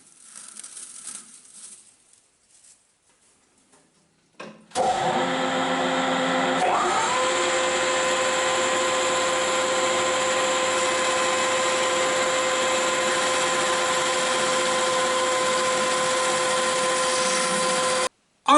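Lathe motor running steadily with a whining hum while restoring the tailstock of a Celtic 14 lathe, starting abruptly after a quieter stretch and continuing loud and constant until a sudden stop near the end.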